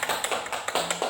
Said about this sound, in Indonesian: Ya, tepuk tangan dulu, tepuk tangan.